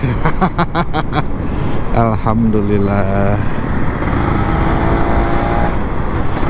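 Kawasaki Ninja RR 150 two-stroke motorcycle revving hard and accelerating through gears up close, the engine note rising and dropping in repeated pulls over constant wind noise, with a brief spoken word.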